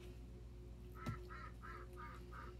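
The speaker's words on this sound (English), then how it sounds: "That would be my ducks." Ducks quacking in a series of five nasal calls, fairly distant and soft, over a steady low background hum.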